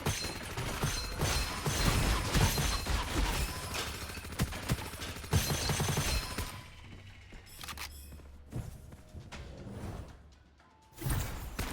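Big gun firing in the shooter game Gunfire Reborn, rapid dense bursts of loud gunfire with mechanical clatter, easing into sparser shots and a brief lull before a final blast.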